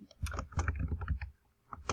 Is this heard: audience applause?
no